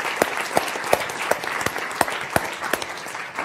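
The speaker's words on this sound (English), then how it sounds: "let's give an applause for everyone who weighed in" Applause from a keynote conference audience, with sharp individual claps standing out above the dense clapping, steady and fairly close throughout.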